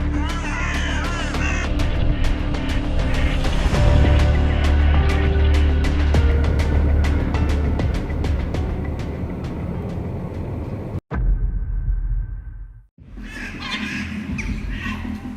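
A crow caws repeatedly while a seagull attacks it, the harsh calls loud and close over a busy, continuous background that cuts out briefly near the end and then returns.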